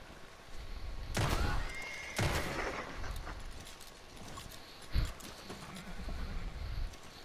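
Horse in the Red Dead Online video game whinnying loudly in two long neighs near the start, followed by softer snorts and hoof clip-clop under game ambience.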